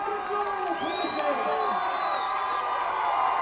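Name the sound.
football stadium crowd cheering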